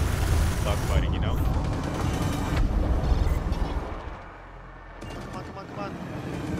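Spaceship guns firing during a dogfight in the video game EVE Valkyrie, dense rapid bursts and rumbling blasts over roaring engines, loud and continuous, dropping off briefly before resuming, with someone talking over it.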